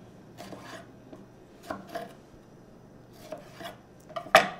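Knife chopping tomato on a cutting board, a handful of separate crisp chops spread unevenly through the clip, close and fairly quiet, with no talking.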